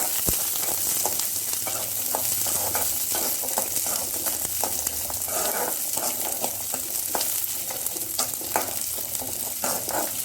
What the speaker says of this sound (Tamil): சின்ன வெங்காயம், பூண்டு, வரமிளகாய், கருவேப்பிலை எல்லாத்தையும் எடுத்துக்க போட்டுக்கலாம். நல்லா வதங்கணும்.